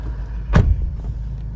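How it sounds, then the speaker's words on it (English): A 2016 Toyota Landcruiser VX 200 series starts with a quick push-button start: a short burst as the engine catches, then a low, steady idle hum, heard up close. "Give the car a quick start."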